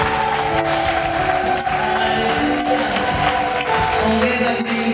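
A church congregation claps steadily throughout, a dense sustained wash of applause mixed with music and scattered voices.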